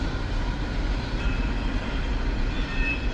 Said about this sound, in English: there's the train right on time